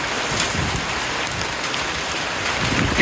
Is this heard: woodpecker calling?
no